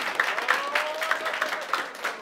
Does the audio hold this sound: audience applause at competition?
yes